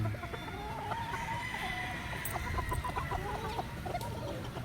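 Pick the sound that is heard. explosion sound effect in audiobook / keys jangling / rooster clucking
rooster clucking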